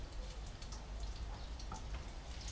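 Spiced beef mini bricks frying in a pan of hot oil, giving a steady dense crackling sizzle that holds evenly throughout without talk.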